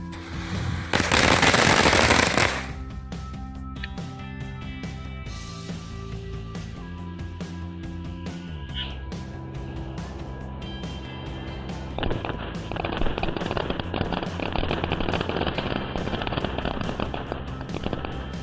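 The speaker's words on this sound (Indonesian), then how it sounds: "Fire Crackling 100 shoot." A 100-shot crackling firecracker barrage bursts in a loud opening blast, then keeps popping and crackling in rapid, steady volleys for many seconds, outdoors during Ramadan celebrations.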